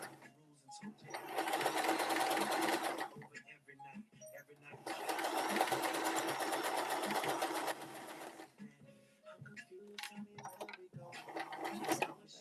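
A sewing machine runs a zigzag stitch in two sustained bursts of steady whirring, with a pause and some handling clatter between them and near the end, close and fairly loud.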